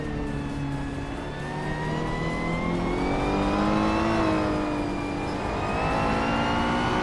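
Race cars at Spa Vintage in a racing game, led by a 1984 Ferrari 288 GTO, rev and accelerate off the start line, their engine tones climbing and overlapping in a loud, continuous whine that peaks and settles.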